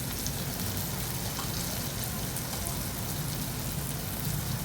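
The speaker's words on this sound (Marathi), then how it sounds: "छान असं हे कांदा टमॅटो आपलं परतून झालं आहे" Onion and tomato sautéing in a pan give a continuous, fairly soft sizzle with dense fine crackling, even in level from start to finish.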